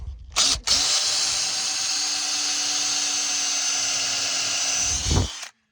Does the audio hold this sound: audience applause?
no